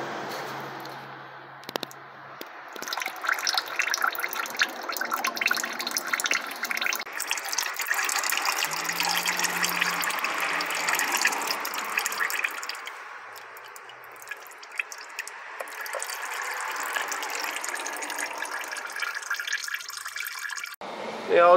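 Oil trickles from the transfer case of a Mitsubishi L200 Triton 2.4 TDi into a drain tray, a continuous close hiss of flowing liquid with faint clicks and a brief voice near the start.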